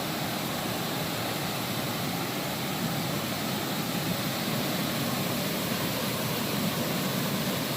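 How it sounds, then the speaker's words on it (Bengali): Water released from Topchachi dam rushes in a constant, dense roar, a steady broadband wash of sound with no breaks or voices. "ড্যামে জল ছাড়ছে।"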